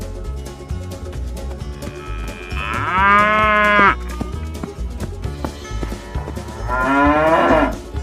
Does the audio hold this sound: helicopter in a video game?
no